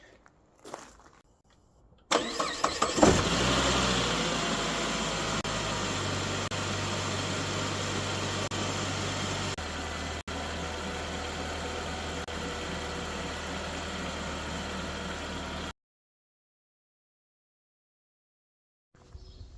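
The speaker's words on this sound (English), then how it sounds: "Start the car, see if it even starts." A Saab 9-5 engine under repair cranks briefly, catches and settles into a steady idle close by, running for about thirteen seconds before cutting off to silence.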